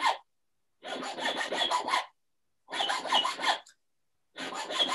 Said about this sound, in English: And repeat the process with your O-cut rat tail file.